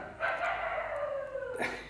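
Dogs howl behind a speaker, one long wavering howl drawn out over a couple of seconds, moderately distant, followed by a brief yelp near the end.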